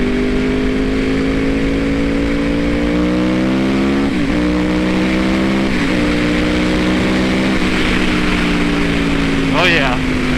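A 2012 Yamaha R1 motorcycle engine heard on the move, a loud steady drone that climbs slowly in pitch and drops with each gear change, under constant wind rush.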